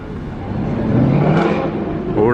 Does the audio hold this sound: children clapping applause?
no